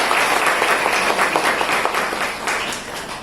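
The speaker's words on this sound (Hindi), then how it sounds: "तालियां तो बजती" Steady, dense applause from a crowd at an Independence Day celebration at a hospital, many hands clapping at once and filling the room without a break.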